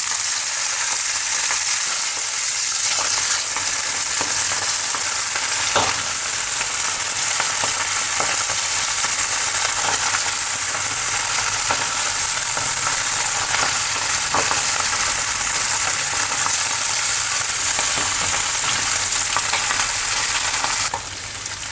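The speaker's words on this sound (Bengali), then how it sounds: "তেলটাও গরম হয়ে গেছে, এবার আমি মাছটা দিয়ে দিচ্ছি একটা করে।" Small puti fish frying in hot oil, a loud, steady sizzle that runs close and unbroken, with a few soft clicks of stirring and no voices.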